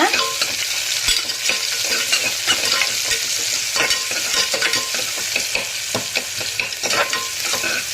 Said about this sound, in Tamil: அதையும் போட்டு நல்லா வந்து வதக்கி விடுங்க